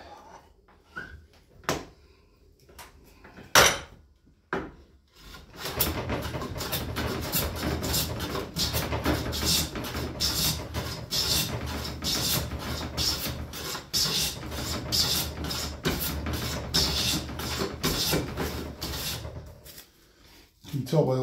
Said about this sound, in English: Let me take a side shaving here